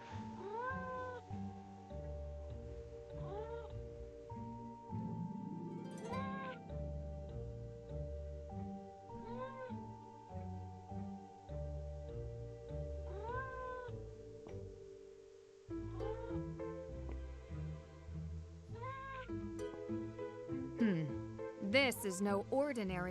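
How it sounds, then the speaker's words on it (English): Cat in the video game Nancy Drew: Mystery of the Seven Keys meowing again and again, several drawn-out mews spread across the stretch over steady background music and voice. "Why do I hear a cat?"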